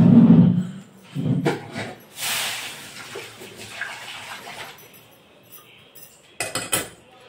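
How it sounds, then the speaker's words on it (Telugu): Fried tempering poured from a pan into mint and coriander chutney in a serving bowl: a brief splashing pour with a soft hiss, followed by metal utensil clinks and scraping, then a sharp clatter near the end. "స్టవ్ ఆఫ్ చేసి సర్వింగ్ బౌల్లోకి తీసుకున్న దాంట్లోకి వేసేస్తున్నానండి."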